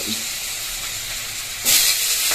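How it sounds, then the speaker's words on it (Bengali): A steady hiss of hot oil that swells abruptly into a brighter, louder sizzle partway through as dry chillies hit the pan. "তেল গরম হয়ে গেছে শুকনো লঙ্কা ফোড়ন দিয়ে দিলাম"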